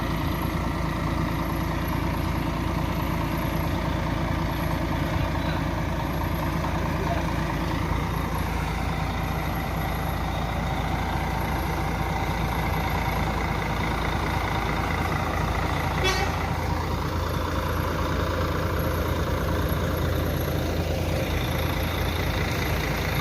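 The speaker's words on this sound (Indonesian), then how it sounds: "Dan ini bus tronton yang kedua sudah memasuki" A tronton bus engine idles steadily with a deep rumble as it pulls into a bus terminal at night. The drone stays constant throughout, with faint background voices and passing engine sounds.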